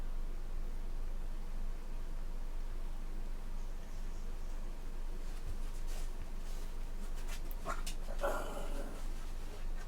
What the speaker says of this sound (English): my big dog stepped on my small dog.